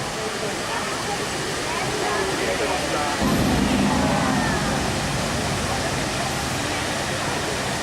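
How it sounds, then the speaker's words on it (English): Fountains outside the Mirage in Las Vegas give a constant broad rush of splashing water, loud and steady like a waterfall, with a lower surge partway through and people talking over it. "So these are the fountains outside the Mirage"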